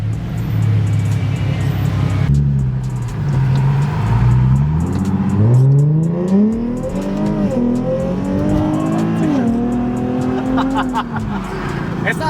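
Car engine with a newly installed aftermarket exhaust, starting up and revving in rising and falling sweeps, loud and close, while people talk nearby.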